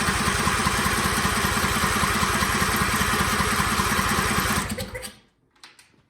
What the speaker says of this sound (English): crank it over and see if gas comes out of here